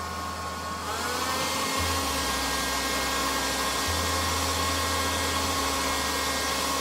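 A hair dryer on its second speed, drawing about 1100 to 1369 watts, whirs on steadily, its motor rising in pitch as it spins up, then blowing with a constant loud airy hum.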